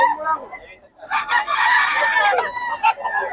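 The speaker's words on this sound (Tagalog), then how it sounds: "Ganda ng manok ni Boss Tony" A gamecock crows once, loud and close, a long strained call, with brief clucks and murmuring voices of Filipino sellers around it.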